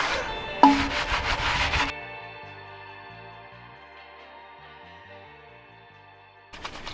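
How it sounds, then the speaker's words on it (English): A clay bar rubbed across a car wheel during detailing: a close, dry rubbing burst lasting a couple of seconds, then quiet background music, and rubbing starting again at the very end. "just using the clay bar"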